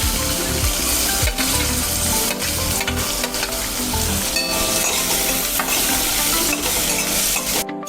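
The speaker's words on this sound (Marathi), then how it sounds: "आपला कांदा परततोय तोपर्यंत आपण थोडेसे धने घेऊ।" Chopped onion sizzles and fries in hot oil with cumin seeds and a pinch of asafoetida in a kadhai, stirred steadily throughout, a loud continuous crackle with occasional scraping strokes and no talk.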